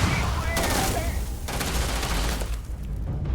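Rapid gunfire rattles in Starfield, a loud, dense fusillade of automatic shots with brief pauses between bursts, with a voice faintly underneath.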